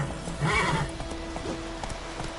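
Roach the horse in The Witcher 3 gives a short close whinny, followed by rhythmic hoofbeats of galloping under faint game ambience.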